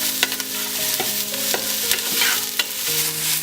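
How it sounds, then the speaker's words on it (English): Onions sauté in a hot pan with a bright steady sizzle while a utensil stirs and scrapes in irregular strokes, close and fairly loud, without any voice. "Now that the onions are sauteed"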